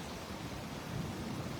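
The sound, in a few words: heavy rain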